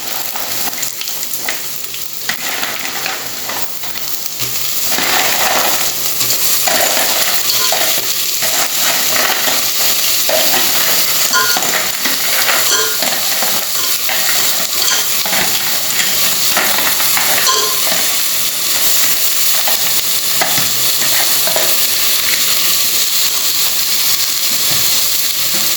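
Crabs tossed into a hot frying pan for Goan crab bafat, a strong continuous sizzle with scattered scraping and clinks of stirring, close and loud, rising after the first few seconds.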